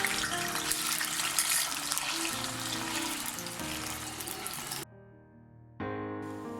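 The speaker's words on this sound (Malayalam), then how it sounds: "ആ മാങ്ങയുടെ കഷ്ണങ്ങൾ ഇനി അതിലേക്ക് ചേർത്ത് കൊടുക്കാം" Mango pieces for a North Indian mango pickle tipped into hot, smoking mustard oil, giving a loud, dense, steady sizzle that drops away briefly near the end and then returns just as strongly.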